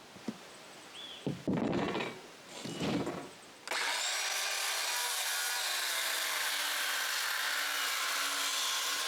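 Plywood is cut for a roof truss while building a cottage shelter: a few short rasping sawing bursts are followed by a long, steady, close power-tool cut through the wood, with no talking.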